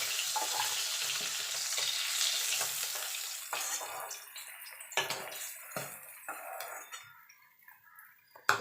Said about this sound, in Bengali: এবার বাকি মাছগুলো আমি ভেজে নেব এইভাবে।